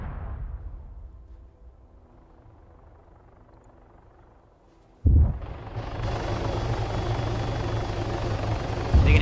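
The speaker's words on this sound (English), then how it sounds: "You can hear that helicopter land" Helicopter setting down in Arma 3 during a winter tank wargame, a rotor drone that fades quietly, then cuts to a loud, close, steady engine and rotor roar with a deep thump at the end.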